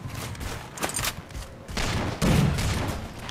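Battle Rifle gunfire in Halo on the Complex map during a slayer pro match: repeated sharp bursts of shots crackle over a steady background of game ambience, getting louder and denser toward the end.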